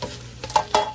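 Fried rice is stirred in a pan, making a quick scrape and two sharp clinks of utensil against metal over a low sizzle, with no voices.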